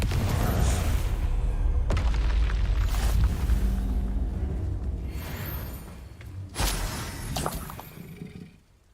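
Confringo blasting spell in Hogwarts Legacy, several heavy booming blasts and rumbles following one another with a roaring, fiery tail, loud and close, no talk.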